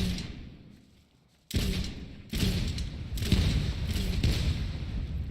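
Heavy thuds of shoulder launcher rounds striking the ground in the Super People video game, a few loud impacts in succession with rumbling between them.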